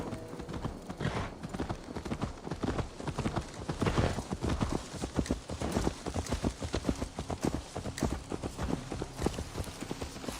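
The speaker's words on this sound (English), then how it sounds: "Let's return the horse." Horse hooves clip-clop in Assassin's Creed Valhalla, a steady rhythmic stream of hoof strikes from a horse in motion, fairly close, with an occasional faint whinny.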